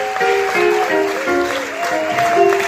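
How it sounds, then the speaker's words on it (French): A church congregation claps for the Lord during a sermon, a steady patter of hands blended with music and sung tones throughout. "You clap for the Lord."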